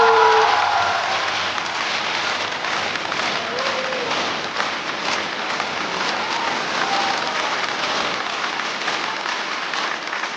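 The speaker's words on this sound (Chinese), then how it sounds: "掌声欢迎不辣。" A crowd of audience members applauds steadily and loudly at a stand-up comedy show as comedian Bu La is welcomed onto the stage, a dense, even wash of clapping throughout.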